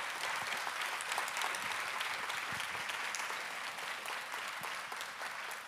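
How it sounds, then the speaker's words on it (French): Steady, even applause from a conference audience after a talk on cultural action, sustained and fairly distant throughout with no voices over it. "Je vous propose d'applaudir."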